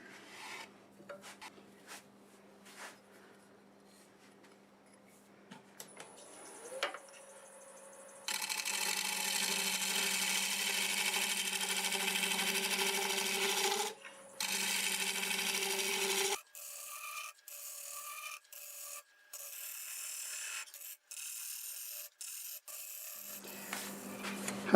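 A negative rake scraper shears across a spinning burl board on a wood lathe, giving long steady rasping passes broken by brief pauses and then shorter choppy cuts, close and fairly quiet.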